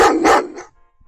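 A dog barks twice in quick succession, loud and close, then goes quiet.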